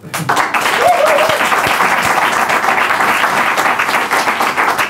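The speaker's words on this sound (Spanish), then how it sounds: "cabecera y aplauso" A television studio audience breaks into loud, sustained applause, steady clapping filling the room with a brief voice audible at the start.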